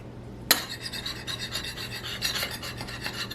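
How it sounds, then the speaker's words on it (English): A scraper scrapes discoloration off a glass ceramic cooktop in a rapid series of close, harsh rasping strokes, opening with a sharp initial scrape and continuing in a steady rhythm. "So I'll get the scraper back out."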